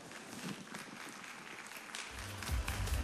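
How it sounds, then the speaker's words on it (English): Applause for an inductee at the Eastwood City Walk of Fame ceremony, a dense wash of crowd clapping throughout with a low rumble swelling near the end. "a round of applause for Mr. Tyrone Tan"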